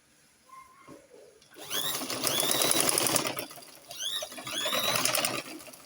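Sewing machine stitching a princess dart, starting after a quiet moment and running in loud, fast, steady mechanical bursts close by, with a short pause midway.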